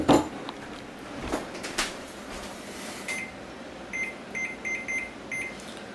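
A kitchen timer on a stovetop beeps in several short, clear bursts during a keto pan-fried cheesecake pancake cook, following some clattering and handling noises.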